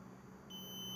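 A multimeter on continuity mode beeps as its probe touches a pin of a battery connector on a bench power supply, a faint steady tone that starts halfway through and holds over a low background hum.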